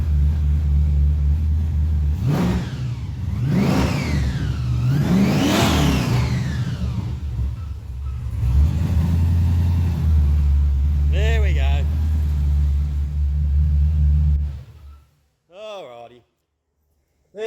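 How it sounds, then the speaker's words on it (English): Blown Holden VK at a car show, freshly fitted with new spark plugs, revving hard in several sweeping bursts over a loud idling rumble. Voices talk nearby, and the engine cuts off near the end. "The change of spark plugs, fired her back up, and there she's good as gold."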